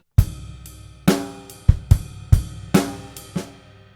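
A drum kit plays a groove: punchy bass drum and snare hits with soft ghost notes between, about eight strokes in a steady rhythm, close and clear with no talking.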